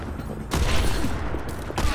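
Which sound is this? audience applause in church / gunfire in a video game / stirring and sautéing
gunfire in a video game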